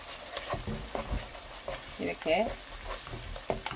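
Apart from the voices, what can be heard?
stir-frying anchovies with garlic and almonds in pan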